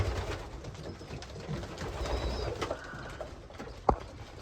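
Pigeons in a loft reacting to freeze-dried beetroot feed, soft repeated cooing close by over faint background rustle, with one brief sharp knock near the end.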